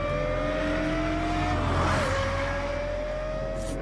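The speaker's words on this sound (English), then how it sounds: "Only a high-revving V10 engine supplies this combination of power and sound" Lexus LFA with a high-revving V10 engine, a loud sustained high-pitched wail that climbs steadily, dips briefly as it shifts around the midpoint, then keeps rising close by.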